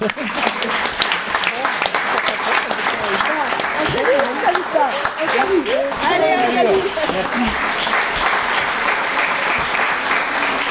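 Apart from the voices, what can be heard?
theatre audience applause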